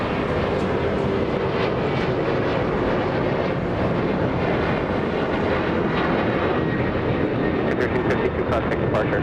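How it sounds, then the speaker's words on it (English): An Alaska Airlines Boeing 737 departing LAX gives a continuous broad jet roar that holds steady throughout, with some faint clicks toward the end. "I think we have another Alaska 737 getting a move on, this time flying to San Jose, Costa Rica"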